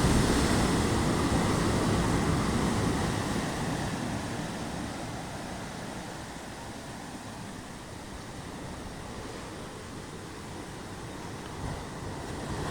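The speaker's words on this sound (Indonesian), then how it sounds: "Tuh ombaknya." Ocean waves at a beach in West Java, Indonesia, give a steady broad wash of surf mixed with wind buffeting the microphone, loud at first and easing slightly, with no voices.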